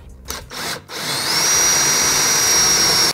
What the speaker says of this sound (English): We still want to put a pilot hole in there so we don't crack the stud.